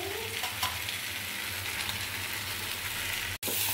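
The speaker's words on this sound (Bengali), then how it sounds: "ভালো করে নেড়ে চেড়ে" Soybean and potato curry sizzles steadily in a pan while being stirred, a continuous close frying hiss with occasional scraping strokes, no voices.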